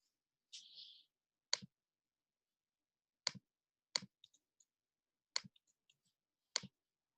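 About six sparse, sharp keystrokes as phone-number digits are typed on a computer keyboard, with uneven gaps between them. Quiet and close, with no talking.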